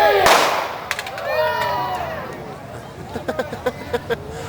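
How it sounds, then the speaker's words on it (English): At the Buffalo Bill Days gunfight show in Golden, Colorado, a gun fires a blank round at a pop can, giving a single sharp loud bang that is followed by scattered crowd voices and light clatter. "that's a good example of what one of these blanks here will do to a pop can"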